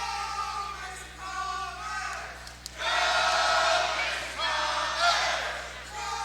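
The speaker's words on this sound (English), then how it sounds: "You hear the student section, the Black Hole, getting into it here at Mason High School tonight" The Black Hole student section cheers at a Mason High School girls volleyball match against Seton, with two loud swells of crowd yelling rising over an announcer's steady commentary in a gym.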